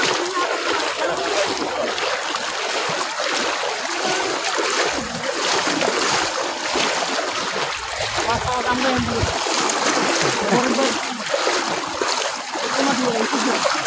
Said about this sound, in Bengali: হাঁটুর উপরে পানি এখানে